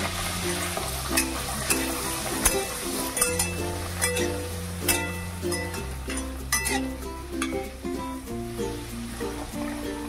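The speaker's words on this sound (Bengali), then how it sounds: "তেলটা পুরো ভালো করে গরম করে নিয়েছি, এবারে আমি দিয়ে দেবো" Kachori dough frying in hot oil for a peas-filled kachori, a steady close sizzle running throughout with occasional clinks, under loud layered background music with a thumping bass line and no talking.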